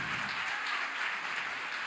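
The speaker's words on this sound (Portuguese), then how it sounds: "Pode aplaudir ele." A church congregation claps in a continuous, fairly soft patter of applause, somewhat distant and even.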